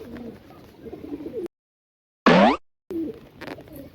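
Pigeons coo in low throaty bursts close by, and one loud bright burst of flapping wings or calling stands alone between two gaps of silence.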